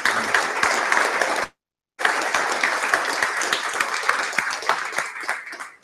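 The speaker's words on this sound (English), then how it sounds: "So one last round of applause," Sustained applause from a crowd, dense steady clapping that cuts out briefly, then resumes and gradually thins toward the end.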